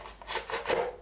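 A Cima GD109 knife slices through cardboard in a few rough, scraping strokes, each a short rasping burst close by, with no talking.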